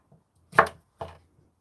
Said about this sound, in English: I'm going to continue chopping my cucumbers exactly the same way